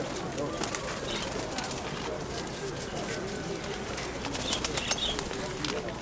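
Soft pigeon cooing sits in a busy outdoor market ambience in Dnipro, low and fairly steady throughout.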